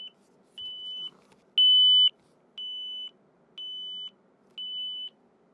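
Edifier ES850NB headphones emit a locator alert: five evenly spaced, clean high-pitched beeps about half a second each, one per second, close and alone.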